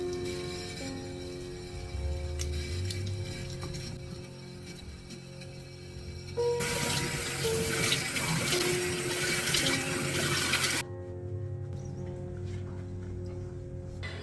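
Tap water running into a bathroom sink during face washing, a steady splashing flow that grows noticeably louder and fuller midway, then drops back to a softer trickle near the end, with no one talking.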